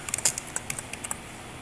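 Quick taps on a computer keyboard come in a short irregular burst of keystrokes, close and light, and then fade into quiet room tone.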